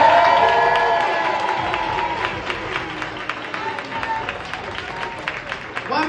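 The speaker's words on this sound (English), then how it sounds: "Round of applause" Crowd applause and cheering at an independent film festival, honouring the jurors, starts loud with voices mixed in, then settles into scattered clapping that thins out.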